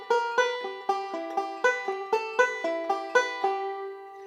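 Banjo picking a two-measure lick from Sally Goodin, crisp plucked notes in a quick rolling rhythm, close and clean with no talking.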